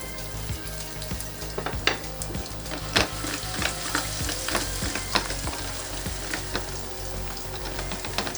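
Shrimp frying in garlic-infused oil in a hot pan, a dense, crackling sizzle with sharp pops and occasional scraping of a utensil, close and steady with no voices.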